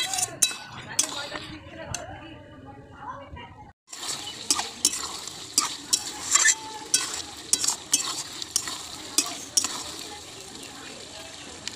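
Mutton stirred and sautéed in a pot over a wood fire: busy scraping and sizzling with frequent metal clinks of the spoon on the pot, broken by a brief near-silent pause before the stirring resumes louder.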